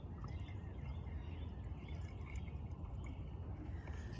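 Liquid pours from a cup container into a pint container with a continuous low gurgling splash that stays even throughout, close by with no speech.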